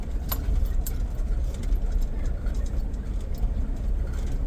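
A Ford Bronco engine, running again after two years of sitting, rumbles steadily in first gear, a low continuous drone with a few faint clicks on top and no talk.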